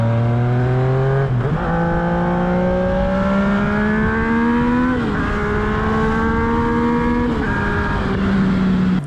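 Yamaha XSR900 motorcycle with 88 Nm of torque accelerating hard up close, its engine note climbing steadily in pitch through three gear changes, loud and continuous with no talking.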